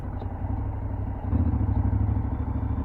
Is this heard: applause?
no